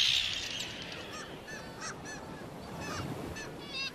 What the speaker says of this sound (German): Kaum ein Vogel ist so aggressiv und angriffslustig wie die Küstenseeschwalbe.